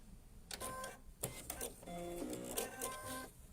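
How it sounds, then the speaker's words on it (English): A sewing machine stitches a hand sanitiser pouch, running in short whirring bursts with brief pauses and electronic button beeps, heard close and fairly quiet. "It takes longer because I forget to press the buttons. It's a beautiful machine, Sarah."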